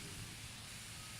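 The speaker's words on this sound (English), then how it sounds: "Misting stations and splash pads have been set up around Columbia for the season to help people avoid the heat." A water misting station set up in Columbia for summer heat sprays a steady, soft hiss of fine mist, continuous and fairly faint throughout.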